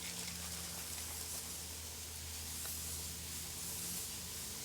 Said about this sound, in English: I'm going to use non-flaking starch, and I'm going to spray very heavily.